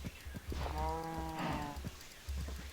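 Cows moo in a modded Minecraft-style survival video game: one long, drawn-out tonal moo, clear and fairly close, with soft low thumps and game noises around it and no speech.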